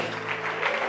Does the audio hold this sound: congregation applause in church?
yes